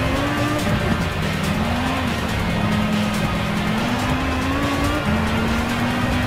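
SRT Tomahawk X race car in GT Sport screaming at high revs with sustained tire squeal as it skids out of control, loud and continuous throughout with no voices.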